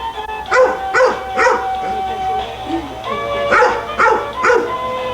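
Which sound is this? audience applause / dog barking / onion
dog barking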